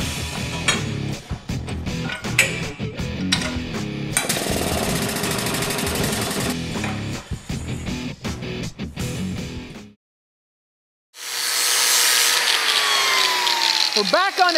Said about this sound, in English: this is a heavy duty drill motor that runs on ball bearing guides, so you can go ahead and notch tubing with this